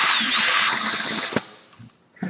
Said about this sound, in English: You don't need to drill out a lot